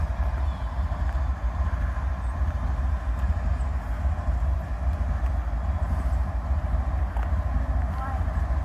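A Norfolk Southern freight train idles and rumbles in a small Alabama town, a dense, steady low drone that lasts throughout, with faint voices in the background.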